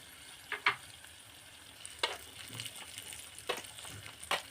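Raisins and other additions fry for rava laddu, giving a soft, quiet sizzle punctuated by a few sharp stirring clicks against the pan, with no speech.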